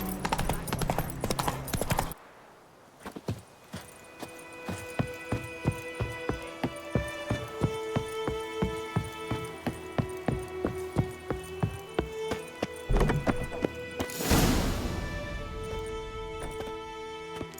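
Horse hooves clip-clop in a steady rhythm from a mount in The Witcher 3, loud and close, with a brief noisy burst near the end and no talk over the hoofbeats.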